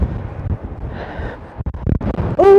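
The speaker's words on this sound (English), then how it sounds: "Oh dear, that's quite windy" Low buffeting rumble of wind gusting across a microphone in Edinburgh's Old Town, uneven and blustery, with a sharp tonal squeal at the very end.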